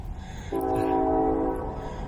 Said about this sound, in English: Don't mind the train.